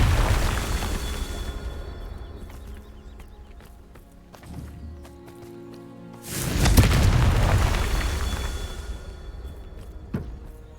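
A Confringo fire spell goes off in Hogwarts Legacy with a sudden, loud, booming burst. Its rumble fades slowly over several seconds. Quieter game rumble and scattered clicks come before the burst, and there is no talking.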